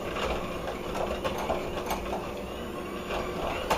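An electric hand mixer creams butter, sugar and vanilla in a large bowl, giving a steady, fairly quiet whirring with light rhythmic clatter from the beaters. No voices.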